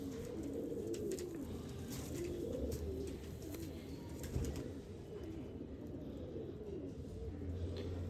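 Low, soft cooing of Sialkoti breeder pigeons rolls on continuously through a steady background hum, several paired birds murmuring together at close range with no voices.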